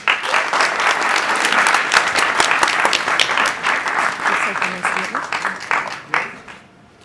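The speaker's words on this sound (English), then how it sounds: "Round of applause for Antoinette." Loud, close audience applause for a speaker on a progress-and-prejudice panel, dense clapping that holds for several seconds and then thins and fades toward the end.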